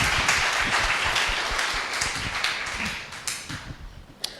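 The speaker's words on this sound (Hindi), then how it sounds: "ताली बजा सकते हैं।" A church congregation bursts into applause, a dense wash of many hands clapping that gradually thins out into scattered individual claps near the end.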